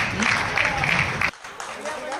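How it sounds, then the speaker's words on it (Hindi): Audience clapping at a Hindi stand-up comedy show, a broad steady wash of applause for about a second and a half that cuts off abruptly, leaving quieter room sound with scattered claps. "तालियां बजाते रहो आप लोग"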